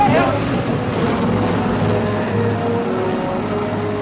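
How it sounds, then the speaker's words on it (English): A big CH-53 helicopter lifts off, its deep engine and rotor roar filling the scene as a loud, steady, close drone with a slight fade toward the end. "And then the helicopter took off."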